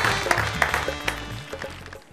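An audience breaks into applause, with a few sharp louder claps standing out early before the clapping thins and fades toward the end.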